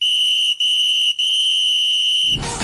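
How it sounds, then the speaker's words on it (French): A referee's whistle sounds at the close of a PSG football talk show: three shrill blasts, the first two brief and the last held long, loud and close, then cutting off into a short burst of broadband noise. "Coup de sifflet."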